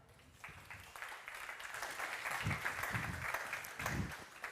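A conference audience applauds the CEO of Astria at Gateway to Cosmos 2023, a steady, moderately distant wash of clapping that builds gradually and holds through the whole stretch.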